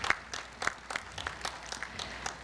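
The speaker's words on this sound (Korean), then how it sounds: "두 분께 다시 한번 큰 박수 부탁드리겠습니다." Scattered, fairly quiet clapping from an audience at a Korea University anniversary ceremony, distinct individual claps in an uneven rhythm, slightly distant, with no speech over it.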